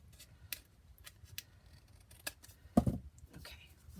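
Scissors trim a sheet of paper, a scattered series of crisp, quiet snips and small clicks close by, ending in one longer, louder cut, with no talking.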